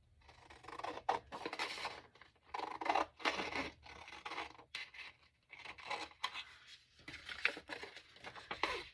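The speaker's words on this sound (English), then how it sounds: "I am going to get my tags cut out" Paper tags being cut out with scissors, roughly snipping around their edges: repeated close, crisp shearing and scraping strokes in an uneven rhythm, heard alone with no talk.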